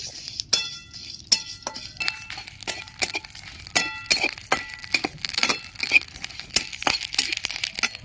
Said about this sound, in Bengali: গোটা মৌরি দিয়ে দিচ্ছি, গোটা জিরে দিয়ে দিচ্ছি, গোটা ধনে দিয়ে দিচ্ছি। এবার সব একসাথে আমি ভেজে নিচ্ছি।